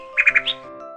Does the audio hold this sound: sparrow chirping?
yes